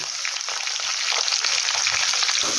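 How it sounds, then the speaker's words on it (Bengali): Potatoes frying in a little oil with turmeric and salt, a loud dense continuous sizzle close up, with no speech. "হালকা তেলেই আলুগুলোকে একটু লাল লাল করে ভেজে নেব"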